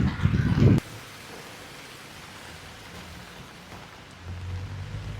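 Heavy rain falls in Dubai, a steady diffuse wash of rain after a brief loud rumbling burst at the start, with a low swell returning near the end.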